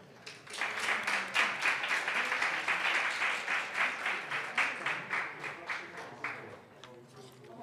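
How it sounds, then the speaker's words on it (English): Applause from a conference audience after a talk at a Python developer conference, a smaller group clapping in a brisk, distinct rhythm that holds steady, then thins and slows toward the end. "please give a big round of applause to the speaker"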